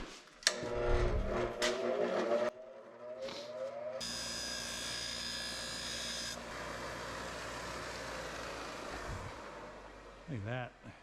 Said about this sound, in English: just come over to our grinder,